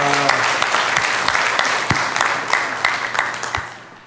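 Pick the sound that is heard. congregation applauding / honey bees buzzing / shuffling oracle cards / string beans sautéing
congregation applauding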